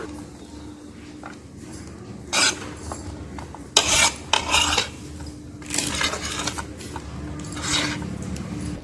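Egg stuffing for stuffed chapathi being mixed in a pan, with a few loud metal scrapes and clanks of a utensil against the pan standing out amid quieter scraping, no talk.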